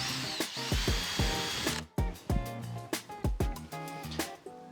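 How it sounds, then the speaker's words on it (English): A power drill bores a hole for a bandsaw circle-cutting jig, running in a long initial whine, then stopping and restarting in a series of short bursts that spin up and wind down close by. "we'll just go ahead and drill a hole now"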